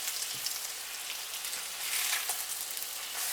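Battered silverside slices fry in butter in a pan, giving a close, steady sizzle with scattered crackles and pops throughout, no voices.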